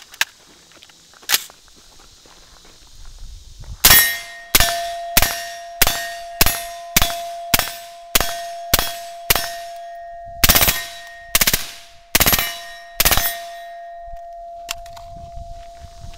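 A rapid series of about thirteen loud, sharp supersonic rifle shots through a suppressor, with clanging ring, in two groups separated by a short pause, fairly close.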